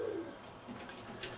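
Soft, low coos from tippler pigeons in a loft, a brief burst close by, with faint rustling in the background.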